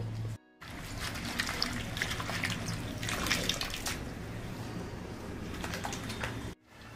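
Chopped spring onion greens washed under running water in a village-style home kitchen, a steady close splashing trickle running nearly the whole time with a brief break at the start and a cutoff near the end.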